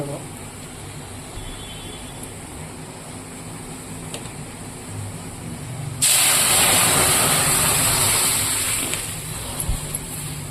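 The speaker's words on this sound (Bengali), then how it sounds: "তারপরে আমি ডালটা ফোড়ন দিয়ে দেবো" A sudden loud sizzling hiss bursts up partway through as red lentils are tempered in hot oil with fried onion, then settles into a steady, slightly quieter sizzle over low kitchen background noise.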